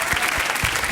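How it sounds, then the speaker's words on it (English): Audience applause fills a live amateur ballroom-style dance show in Surrey: dense, steady clapping from a sizeable crowd, continuous and fairly loud throughout. "Give a round of applause."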